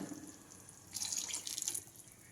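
Tap water runs into a mixer jar as it is rinsed in a kitchen while cooking milagu kuzhambu, a soft trickle that swells into a louder, hissing gush of splashing water partway through, with no talking.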